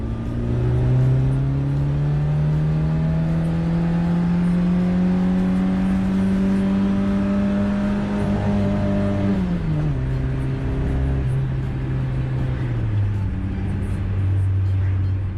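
A car engine with WD-40 added to it revs up steadily under acceleration, its tone rising for several seconds before dropping at a gear change and climbing again, loud and continuous from inside the car.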